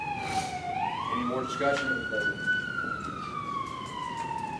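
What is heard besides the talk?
siren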